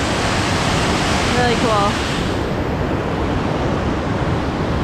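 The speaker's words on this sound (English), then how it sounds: "we decided to hike up to check out the top of the waterfall" Waterfall heard from the top on a summer hike: a loud, steady broadband roar of rushing water fills the scene throughout, with a brief voice speaking over it near the start.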